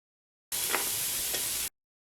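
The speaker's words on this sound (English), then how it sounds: "So next you just want to fry the onions." Onions frying for an omelette, a soft even sizzle lasting about a second with two faint stirring taps, quiet and alone.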